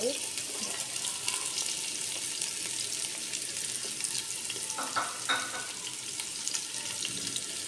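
Chopped peppers go into a pan that already holds diced tomatoes, and a constant close sizzle of frying fills the scene, broken by a few light stirring clicks.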